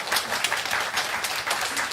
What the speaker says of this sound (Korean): 우리 환영의 박수 한번